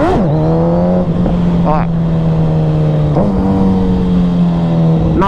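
A Suzuki Hayabusa motorcycle engine revs and accelerates loudly up close, holding a steady drone with sharp rises as gears change, while a rider speaks briefly over it.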